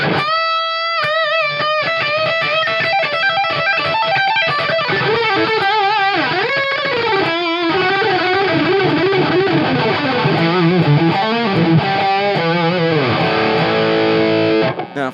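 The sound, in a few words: electric guitar through overdrive distortion pedal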